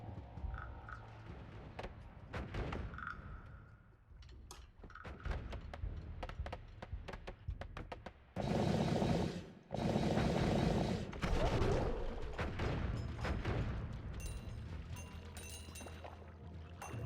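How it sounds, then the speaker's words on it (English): Automated turret fire in the roguelike game Noita, bursts of rapid shots and crackling impacts that swell loud in the middle, amid scattered clicks and game effects. "it must be a turret. It's a turret."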